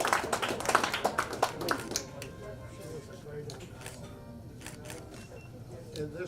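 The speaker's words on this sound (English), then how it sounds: "Please give a big round of applause." Brief, fairly quiet clapping from a small audience at a membership thank-you dinner and awards ceremony, a rapid patter for about two seconds that fades into room murmur and chatter.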